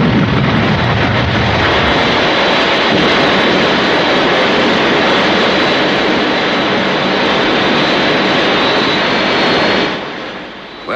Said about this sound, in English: Well, Colonel, that's some aircraft you've got there.